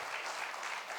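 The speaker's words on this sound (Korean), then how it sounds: "저 뒤에 우리 박수로 환영하겠습니다" A church congregation applauding to welcome newcomers during a Sunday worship service, dense continuous clapping from many hands in a reverberant hall, filling the whole short moment.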